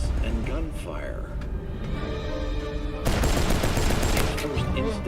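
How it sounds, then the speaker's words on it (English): Video game gunfire rattles in rapid bursts with screams during a cyberpsycho attack in a shopping area, a dense, busy clash that grows louder and harsher partway through. "suddenly hears screams and gunfire."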